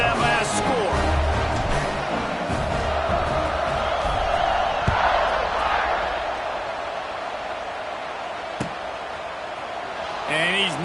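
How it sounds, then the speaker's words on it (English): Stadium crowd at a college football game between Notre Dame and Wisconsin, a loud continuous buzz of many voices after a touchdown, with an announcer talking over it. "this crowd is buzzing after that last score"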